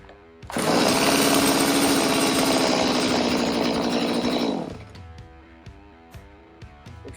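A chainsaw started with its pull cord after a cord repair, roaring at high revs for about four seconds before dropping to a rough, uneven idle with a few sputtering pops, close and loud.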